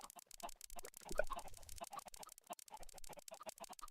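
Chickens cluck in a modded Minecraft world, a run of short soft clucks and chirps close by, with faint game ambience and no talking.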